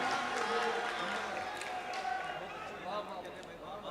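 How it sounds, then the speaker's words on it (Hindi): Audience at an All India Mushaira poetry gathering bursts into loud, sustained applause, a dense wash of clapping and crowd noise that fills the whole stretch without easing. "एक मरतबा ज़ोरदार तालियों से आप उन्हें इजाज़त दीजिए"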